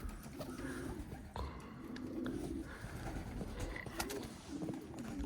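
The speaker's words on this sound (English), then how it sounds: "Beautiful pigeons." Several pigeons in a loft give low, rolling coos in repeated phrases, close and fairly quiet, with faint background rustling.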